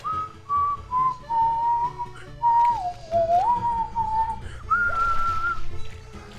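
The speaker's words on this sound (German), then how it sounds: "er pfeift ganz gechillt zur Musik mit." Someone whistles a melodic tune, clear and close, phrases rising and falling with short pauses between them.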